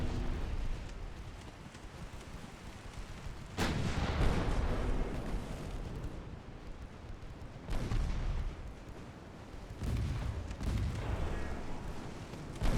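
Heavy naval main guns on a warship in Ultimate Admiral Dreadnoughts boom out in several loud, broad blasts spaced a few seconds apart, each rolling away over a low rumbling sea background.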